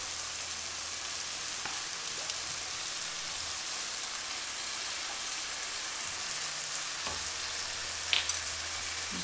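Seasoned vegetables with lemon juice fry in a hot pan, giving a quiet, even hiss throughout with a few faint clicks and taps of a utensil near the end.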